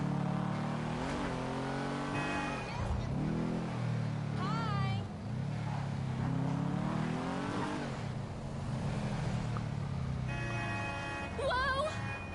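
Karin Woodlander engine in GTA Online, revving with rising and falling pitch sweeps through most of the clip, loud and close, with a voice talking over it.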